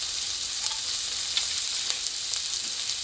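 Capsicum stir-fries for kung pao paneer, a steady bright sizzle with small crackling pops and brief stirring scrapes throughout, fairly loud and close, no voices.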